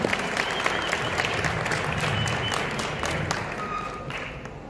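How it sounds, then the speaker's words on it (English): Audience applause at a Dominican Independence celebration in Queens, New York, many hands clapping, steady and moderately loud, slowly fading toward the end, with faint crowd voices underneath. "welcome applause."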